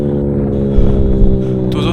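A Yamaha R15 V3 motorcycle with a loud full-system aftermarket exhaust rumbles at a steady idle, its deep droning note held evenly and close for the whole stretch.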